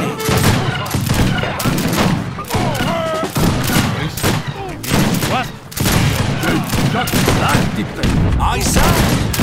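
Rifle volleys in Age of Empires 3, a real-time strategy battle: loud, close, repeated bursts of musket-style gunfire cracking in quick succession, with voices mixed into the din.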